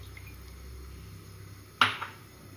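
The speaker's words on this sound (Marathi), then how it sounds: "तसंच एक बाउल पाणी टाकून घेते" Water from a bowl tipped into a pan on a lit gas stove, a single short splash near the end followed by a brief second slosh, over quiet kitchen room tone.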